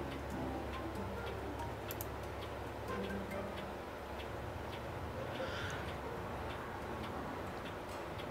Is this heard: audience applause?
no